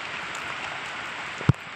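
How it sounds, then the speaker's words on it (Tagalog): Heavy rain pours down outdoors, a dense, steady hiss of drops on surfaces that stays loud and unbroken, with one sharp thump near the end. "Palakas ang ulan mga katikim."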